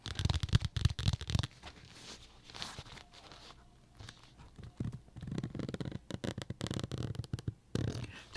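Rough scratching and rustling of a zipper close up, in irregular bursts with brief pauses, some sharp clicks and rasps.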